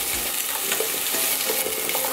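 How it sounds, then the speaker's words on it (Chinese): Carrot pieces sizzle in hot oil in a pan while being stirred and tossed, with a continuous close crackle and the scrape of the utensil, as vegetables for ABC soup cook. No voices. "我就会先用油先炒过一下"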